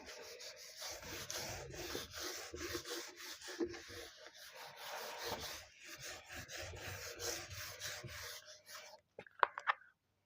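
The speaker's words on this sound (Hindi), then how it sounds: "अपन यहाँ पे लिखते हैं." Marker or chalk scraping and rubbing across a board during a macroeconomics lesson, continuous strokes with brief pauses for about nine seconds, close and moderately loud, ending with a few sharp taps.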